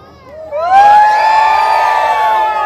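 A village crowd at a lavani stage show roars with cheering, whoops and high children's shouts, swelling into a loud, sustained burst that holds steady for a couple of seconds.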